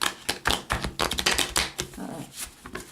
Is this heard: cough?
no